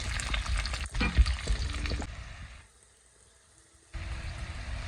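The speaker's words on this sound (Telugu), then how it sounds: "మీడియం ఫ్లేమ్లో పెట్టుకుని వేయించుకోండి" Garlic fries over a medium flame, crackling and sizzling busily up close before the sound drops almost to silence for a moment, then the frying resumes.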